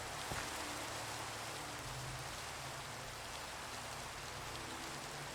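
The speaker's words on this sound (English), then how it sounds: "a torrential downpour" Torrential downpour, a loud, dense and unbroken roar of heavy rain hammering surfaces, continuous for several seconds.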